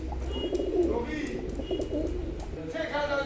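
Pure Teddy-breed pigeons, a running pair kept for sale, give low, steady cooing that continues throughout at a soft level, fairly close.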